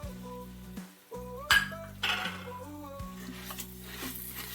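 A spoon stirs browning pasta and onion in a hot pot for Greek rice pilafi, with light clinks and scrapes against the metal over a soft sizzle.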